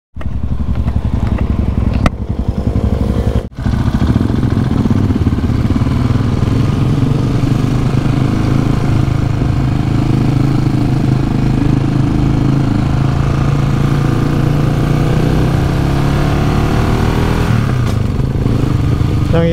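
A cafe racer motorcycle engine roars steadily and loudly close by, with a couple of brief breaks early on, then drones on as it pulls away.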